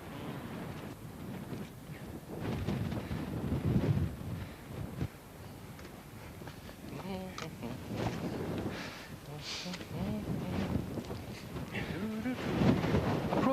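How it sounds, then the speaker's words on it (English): Strong gusty wind buffets the microphone near a mountain summit, roaring and rumbling in uneven surges while people talk over it. "It's blowy up here."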